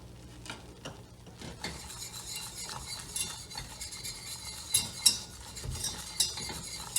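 A spoon stirs a chicken kebab mixture in a bowl, soft scraping and irregular light clinks close by, growing a little louder toward the end.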